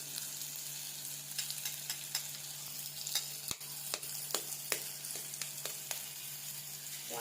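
Food sautés in a pan before eggs are added, giving a faint, steady sizzle with scattered crackles and a few soft scrapes, heard quietly on its own.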